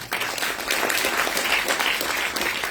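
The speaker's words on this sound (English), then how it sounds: "big round of applause." Steady, close applause from the audience at an Odissi classical dance debut recital, a continuous even patter of many hands clapping throughout without a break.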